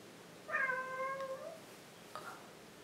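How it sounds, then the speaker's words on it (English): A house cat gives one clear, drawn-out meow close by in a quiet room, followed a moment later by a short, softer chirp. "My cat."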